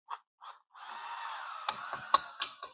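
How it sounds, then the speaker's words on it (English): Mounting screws for a brushed-nickel six-light chandelier being driven in with a tool, a steady mechanical whir after a couple of short clicks, with ratcheting ticks near the end, close and alone. "So now I'm going to screw these in."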